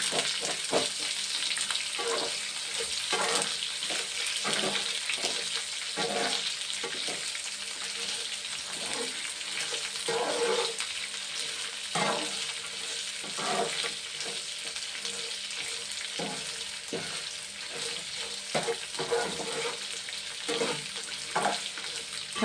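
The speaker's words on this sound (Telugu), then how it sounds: "ఉల్లిపాయ ముక్కలు వేసేస్తున్నాను" Onion pieces fry in a hot tempering of spices, a steady close sizzle and crackle running throughout with frequent stirring scrapes in the pan, and no talking.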